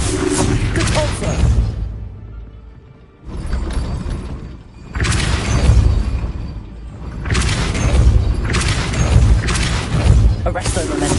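Depulso spell blasts in the video game Hogwarts Legacy land as several loud, booming bursts with rumbling mechanical clatter, separated by short quieter gaps.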